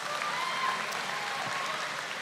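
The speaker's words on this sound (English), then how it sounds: "please give yourselves another round of applause" A crowd at an esports playoff event applauds, an even, continuous wash of clapping held at a moderate level from start to finish, with a few whoops rising above it.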